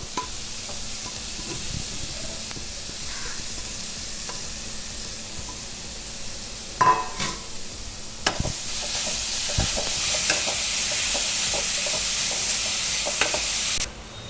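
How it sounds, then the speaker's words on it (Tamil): Beetroot being stirred and sautéed in a pan for halwa, a steady sizzle throughout with scraping spoon strokes and clatters around the middle and later, close and moderately loud, no talking. "நல்லா பீட்ரூட் ஆட் பண்ணி நல்லா வதக்குறோம்."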